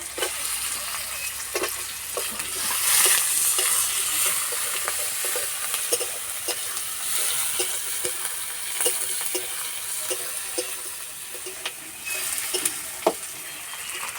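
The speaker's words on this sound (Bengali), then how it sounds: "এবার দেবো টমেটো কুচি।" Chopped tomato frying in a pan for jackfruit kalia, with a continuous loud sizzle and repeated scraping and clicking as it is stirred, close by and with no voices.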